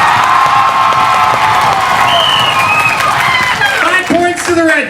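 A parent performing audience at an improv comedy match cheers and applauds loudly for the blue team, a continuous roar of shouts and whoops with rising high voices toward the end.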